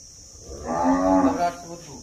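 A cow lets out a single loud, close moo lasting about a second while being hand-milked on a farm in Charkhi Dadri district, Haryana, with no one speaking over it.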